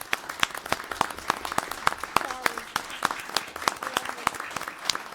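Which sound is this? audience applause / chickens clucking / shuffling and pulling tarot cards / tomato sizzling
audience applause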